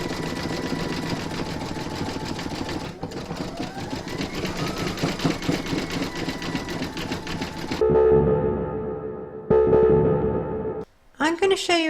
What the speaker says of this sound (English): zigzagging, satin stitch and top stitching of the hair